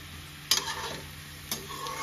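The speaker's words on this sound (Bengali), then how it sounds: "কম স্টিমে এটা আস্তে আস্তে ভাজা হবে।" Potatoes fry slowly on low heat in a pan, a soft steady sizzle broken by two quick scraping stirs about a second apart, close and fairly quiet.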